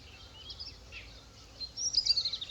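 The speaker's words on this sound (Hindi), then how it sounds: "सारे रूट पे मुझे चिड़ियों की आवाज़ ही आ रही है" Birds chirp along a Himalayan mountain road, with faint high calls early on and a brighter run of quick tweets near the end over a low background rumble.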